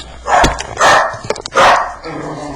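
Indoors, dogs bark loudly and close by in three heavy bursts, with a short yip between them.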